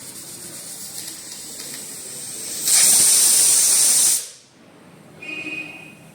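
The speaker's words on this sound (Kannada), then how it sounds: "ಫೈನಲಾಗಿ 2 ವಿಷಲ್ ಬಂತು" A pressure cooker cooking egg pulao whistles, releasing a loud, close hiss of steam that swells for a second or so then cuts off, followed by a fainter, softer hiss and a brief tone.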